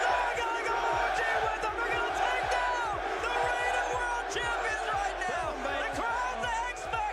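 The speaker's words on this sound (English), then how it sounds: "The crowd is actually fully filled in now." An arena crowd at the RLCS Worlds Rocket League esports event fills the air with a dense, continuous roar of voices and shouts, punctuated by rhythmic low thumps like stomping or clapping.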